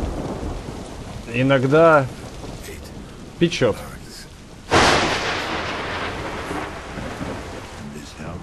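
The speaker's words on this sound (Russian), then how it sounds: "А дождь вам не мешает?" Steady rain pours down in the Observer: System Redux game while a loud crack of thunder rolls and fades, with voices talking briefly over the downpour.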